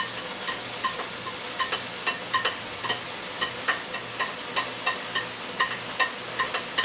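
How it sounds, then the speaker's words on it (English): Green onion stalks sauteing in a wok: a soft, even sizzle under light, regular tapping and scraping as they are stirred. "I'm going to put this in the pan and let it saute"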